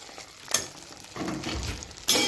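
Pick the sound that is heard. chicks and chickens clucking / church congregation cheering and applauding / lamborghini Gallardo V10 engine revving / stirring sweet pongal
stirring sweet pongal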